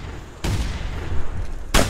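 Two loud shotgun blasts in theHunter: Primal, one early and one at the very end, each a sharp close boom over a low background rumble.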